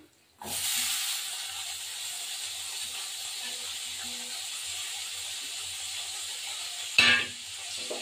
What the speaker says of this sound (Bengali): এই যে পেঁয়াজগুলো ভাজলাম,